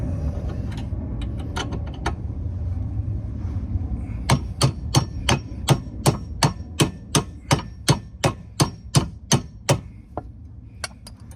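A hammer drives a roughly 3-inch bolt into a Club Car golf cart upper A-arm. Sharp metallic taps land in a fast, even run of about fifteen blows, close and loud, after a few scattered knocks and some low background rumble.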